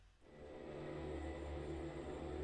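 A resonant, evolving synthetic drone from the Soundiron Harmonic Tides instrument swells in quickly and sustains as a dense, humming wash of layered low tones and airy noise, faint and steady with no other sounds.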